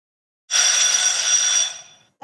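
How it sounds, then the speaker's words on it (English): A quiz competition timer bell rings loudly for about a second and a half, a bright sustained metallic ring that fades out abruptly, with a short sound cutting in at the end. "And that was the timer bell for the bonus."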